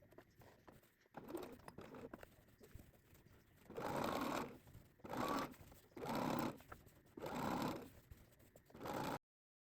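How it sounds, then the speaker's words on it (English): A sewing machine fitted with a zipper foot stitches fabric for a book sleeve in four steady bursts of rapid whirring, each a second or so long, separated by short pauses, close and fairly loud. "switch to the foot, to my zipper foot, and then stitch about 1 inch down"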